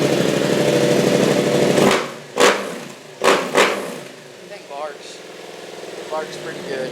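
A 2026 Yamaha R7 motorcycle engine with modifications idles loudly, then is revved in several sharp bursts that swell and fall back, with a voice faintly underneath.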